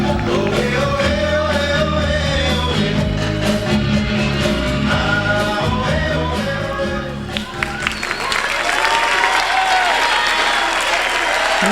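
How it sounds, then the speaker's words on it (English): Applause and crowd noise from the audience at the 1999 US Open Professional Latin dance championship final, with sustained loud clapping that dips briefly and swells again toward the end, dense and close. "Listen to that crowd, they want more"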